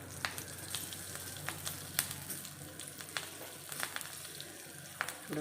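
Chilies frying in hot oil make a steady sizzle broken by sharp crackles and pops and occasional stirring scrapes, close and clear, with no voices.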